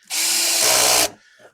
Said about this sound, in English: and then whack 3 screws in